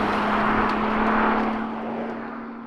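A Nissan GT-R sports car driven fast gives a loud, sustained engine roar with a steady low drone, easing slightly toward the end with no speech.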